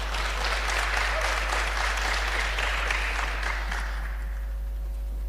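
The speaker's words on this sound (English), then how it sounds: "Applause to Michael." An audience at a women's entrepreneurship pitch event claps loudly and steadily, with no one speaking. The applause thins and fades away toward the end.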